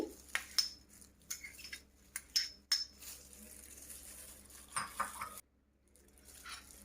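A spoon clinks and scrapes against a bowl while tomato ketchup, pepper and garlic are mixed, giving sparse, faint metallic taps and stirring sounds in a quiet kitchen, then near silence.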